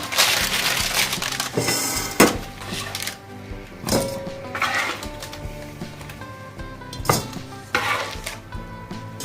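Fried chicken wings are turned out of a pan into a bowl in a home kitchen, with repeated clattering and scraping of utensils and cookware and a soft sizzle underneath, in sharp bursts spaced through the stretch.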